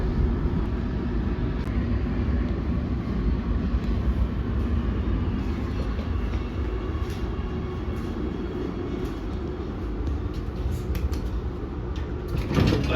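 An Oslo Metro train rumbles along steadily with a deep, continuous roar and faint rattling, the sound holding constant throughout.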